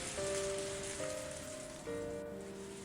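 Steady rain hisses down in a dense, continuous wash within the Higurashi When They Cry visual novel, with soft sustained musical tones running underneath.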